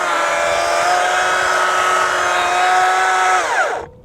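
A chainsaw runs loud and steady at high revs, held near and continuous for several seconds, then its pitch drops sharply as the throttle is released and the engine winds down at the end.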